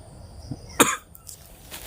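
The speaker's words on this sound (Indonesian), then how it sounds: "Batuk lur sambil ngerokok" A single sharp cough up close from a man smoking, preceded by a small throat sound, over quiet background hum.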